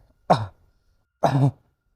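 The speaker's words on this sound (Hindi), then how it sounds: "गोकू खांसते खांसते बोलता है" Two short, sharp coughs from the Dragon Ball character Goku, about a second apart, close and fairly loud against silence.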